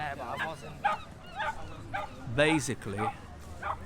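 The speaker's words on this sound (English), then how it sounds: "Just a dog barking." A dog on a Brighton seaside street gives several short yips and barks spread across a few seconds, fairly close, with a whimpering tone, against light outdoor crowd murmur and voices.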